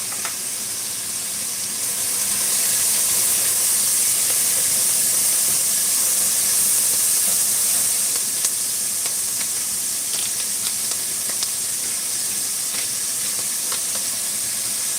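Onions sizzle and hiss steadily in a pan on a gas stove, a close, continuous frying sound that swells after the first couple of seconds and holds with faint stirring clicks.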